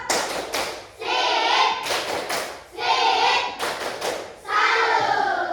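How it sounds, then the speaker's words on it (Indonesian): Children in a classroom perform the Indonesian 'tepuk salut' clapping chant, with bursts of group claps and thumps in a rhythmic pattern alternating with chanted voices, loud and close. "Sekarang kita praktekkan yang tepuk apa nak? Salut. Ya, tepuk salut."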